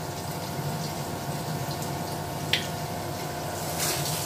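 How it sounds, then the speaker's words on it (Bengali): Pabda fish fat and swim bladder fry in oil with a constant bubbling sizzle, one brief sharp crackle midway and a slight swell at the end, heard up close with no voices. "মাছের তেল ভাজা পটকা।"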